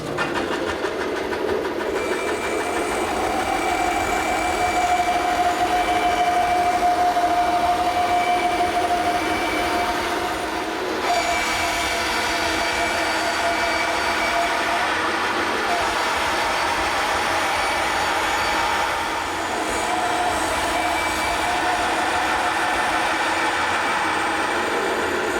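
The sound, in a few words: bandsaw cutting round wooden patio table top on jig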